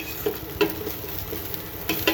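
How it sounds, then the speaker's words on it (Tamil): Shallots crackle and sizzle steadily in hot oil while tempering for a lentil and greens curry, with a few soft stirring clinks scattered through. "இந்த மாதிரி சின்ன வெங்காயம் போட்டு தாளிச்சு கொடுங்க"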